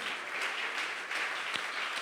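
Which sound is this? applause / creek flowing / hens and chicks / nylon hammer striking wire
applause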